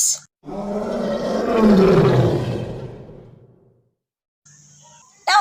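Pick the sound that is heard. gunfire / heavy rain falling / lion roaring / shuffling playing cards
lion roaring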